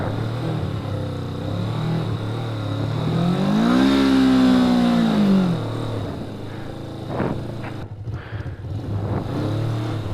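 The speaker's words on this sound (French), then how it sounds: "Le pneu tourne dans le vide." A 500 GSE motorcycle engine revs up and holds a rising, droning pitch as its rear wheel spins on a snowy winter track, then settles back to a rough idle, loud and close with no talking.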